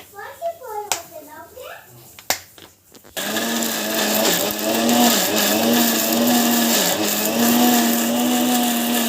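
A few clicks and a voice come first, then a mixer grinder grinding chutney whirs loudly and steadily, its motor pitch dipping slightly as it grinds.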